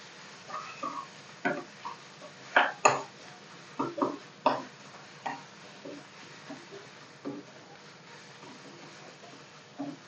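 Beetroot pickle being stirred in a pan, a scattered series of light metallic scrapes and clinks from a spoon against the pan, irregular and fairly quiet, with no voices.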